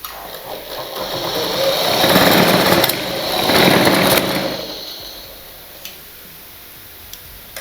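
A sewing machine stitches a blouse in two close, loud whirring bursts of about two seconds each, followed by a quieter stretch with faint clicks.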